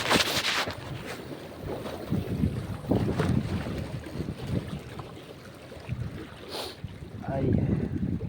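Strong sea wind buffets and rushes around a small fishing boat, a constant close roar of wind noise with some water movement and faint voices underneath.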